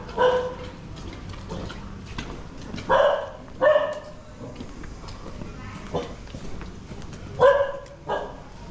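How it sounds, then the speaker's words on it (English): A dog barks a few times at a distance on a street in downtown Si Racha, Thailand, short separate yaps scattered over steady outdoor ambience with some faint background voices. "There's a dog over there as well."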